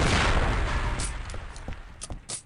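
Gunfire and booming blasts from the video game Duke Nukem Forever, a loud dense barrage at first that thins into sharper separate shots and pops, with no talking.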